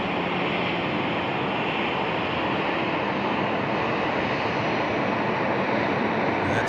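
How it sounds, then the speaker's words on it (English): A Qantas Airbus A380 departs Sydney Airport with a constant, dense roar of engine noise that is loud and even throughout, mixed with wind buffeting on the microphone. "Another stunning A380 departure"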